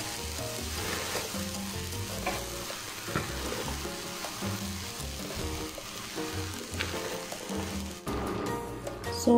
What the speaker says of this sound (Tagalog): isunod ko yung ating cabbage or repolyo